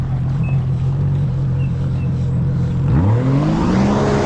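A Sea-Doo jet ski with a Rotax 260/300 engine running, a low steady idle rumble that swells into a rising rev as the craft pulls away, loud and close with no talking.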